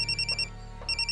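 A telephone rings in a Tamil thriller film scene, two bursts of bright trilling electronic ring separated by a short pause, fairly clear with no speech over it.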